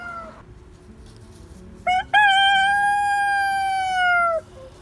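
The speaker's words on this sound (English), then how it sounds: "I don't know if you just heard that, it's the rooster." A rooster crows once nearby, a short rising note followed by a long, loud drawn-out call over quiet outdoor background.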